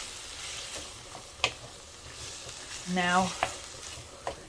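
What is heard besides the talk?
stirring tomato sauce in a pan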